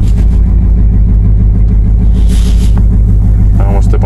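Ram 1500 pickup engine revving in reverse in Sport Plus mode, a loud steady throbbing rumble close by, with a voice talking over it.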